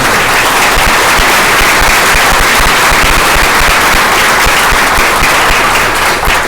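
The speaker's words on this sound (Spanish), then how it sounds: "Vamos a dar un fuerte aplauso a la dirección." Sustained applause from a large crowd, dense and steady clapping throughout with no voices standing out.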